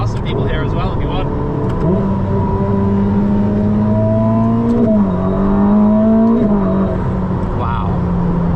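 Engine of a 2025 Ferrari SF90XX hybrid supercar revving and pulling forward in a steady, rising drone, heard from inside the cabin with people talking over it.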